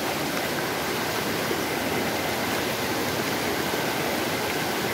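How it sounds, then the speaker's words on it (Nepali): A stream pours down from above and rushes onward in a continuous, loud broadband roar, close and steady with no talk. "माथिबाट बगेर यता झरेर यताबाट सिधै जान्छ है अनि यता चाहिँ पानी छ"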